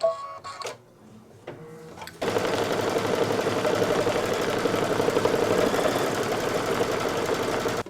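An embroidery machine stitches the tack-down for a Santa hat on a table runner, a steady, fast mechanical whirring and needle chatter that starts abruptly after a few quiet clicks and runs on alone at close range.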